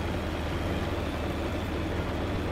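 A big farm tractor engine running in the video game Farming Simulator 19, a steady loud drone with a low rumbling hum, constant and unbroken, with no voices over it.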